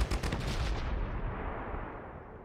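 Gunfire and explosive blasts from an attack on a tank in the strategy video game Pandora: First Contact, a loud dense burst of shots at the start that thins into a rumbling, fading decay.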